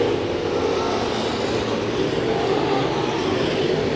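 Race cars battle on the Santa Maria Raceway track in a continuous, loud engine roar that holds steady for the whole stretch, with no voices heard.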